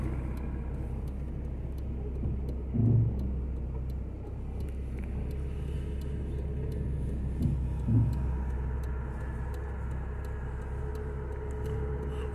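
A car engine idling low during a reversing maneuver, a steady close rumble throughout with two brief heavier thumps partway through and no voices.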